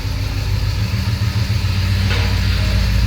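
An Oldsmobile 442 W30 engine rumbles loud and close as the car drives in, a deep throbbing idle with a pulsing low lope and no talking.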